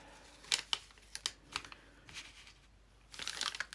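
Textile being cut along a ruler for a homemade journal, with sharp snips and scrapes followed by a longer rustling, crinkling stretch of fabric near the end.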